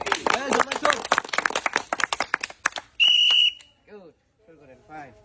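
A crowd at a game of stacking an iron tower by mouth breaks into a few seconds of dense, lively clapping, followed by a sharp whistle blast and scattered voices.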